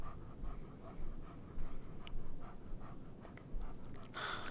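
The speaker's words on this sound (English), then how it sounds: "Okay, come on, doggy." A dog panting in the video game Life is Strange 2, with quick rhythmic breaths close up and a brief brighter rustle near the end.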